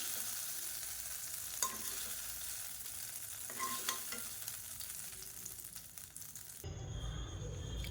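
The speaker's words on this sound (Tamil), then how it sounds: "இந்த தாளிப்பு எடுத்து நம்ம அப்படியே சட்னியில் சேர்த்துக்கலாம்" Hot tempering (tadka) sizzles and crackles as it is poured into onion chutney for idli and dosa, a steady frying hiss with a few small stirring clinks before a sudden change near the end.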